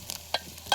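Homemade masala is stir-fried with onion in a pan, giving short scraping stirs and quick bursts of sizzle close by.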